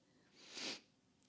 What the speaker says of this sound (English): excuse my sniffles, I'm getting over a cold